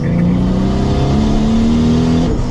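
A car fitted with a custom titanium rear muffler from Martech and a full 3.5-inch titanium exhaust back to the downpipe revs loudly and steadily, its engine note climbing slightly as it holds.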